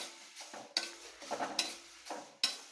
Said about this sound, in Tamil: இப்போ போட்ட மிளகு நல்லா வெடிக்க ஆரம்பிச்சிருச்சு